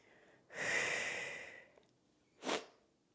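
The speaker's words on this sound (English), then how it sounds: "Again, sorry for the sniffles." Two nasal sniffs from a sinus infection, a long drawn-in one followed after a pause by a short sharp one, close and fairly quiet.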